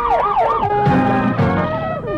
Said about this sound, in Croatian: Kao da dolaze policijska kola.